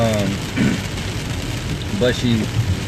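Rain falls steadily nearby, a constant hiss with possible distant thunder, while a person speaks over it in short bursts.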